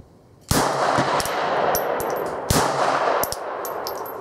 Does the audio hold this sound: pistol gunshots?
yes